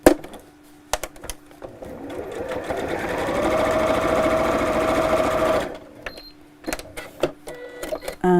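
A sewing machine stitches across the bottom of a pocket, trapping a ribbon: a steady, loud mechanical run of about two and a half seconds, framed by scattered clicks and handling taps before and after.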